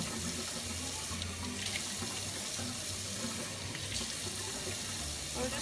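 Tap water runs steadily into a kitchen sink while mushrooms are rinsed, a constant close splashing hiss with small shifts in the flow and no talking.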